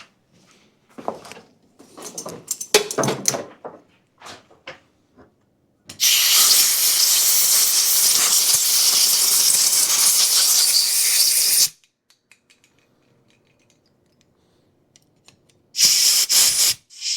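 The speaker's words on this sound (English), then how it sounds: "Spray down through all of those" Carburetor cleaner sprays in two bursts through the clogged jets of a Briggs & Stratton engine on a Ferris IS3000Z mower: a loud, steady hiss for about six seconds, then a shorter hiss, after faint clicks and handling noises.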